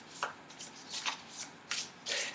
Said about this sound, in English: So we'll shuffle the court cards